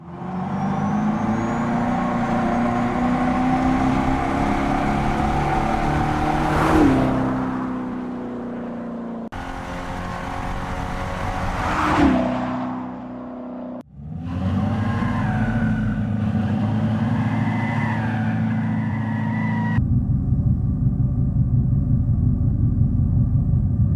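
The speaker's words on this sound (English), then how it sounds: "we'll go ahead and play what the exhaust sounds like" Simulated engine exhaust roars from an electric car's speaker, several separate passes with revving sweeps up and down, loud and close, then a steady low burble.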